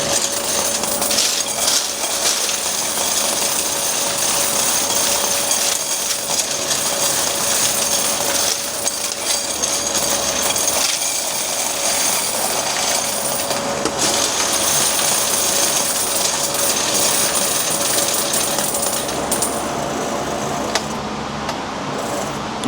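Car wash quarters clatter and jingle continuously as they pour through a coin counter, a dense close metallic rattle with a mechanical hum under it and no speech.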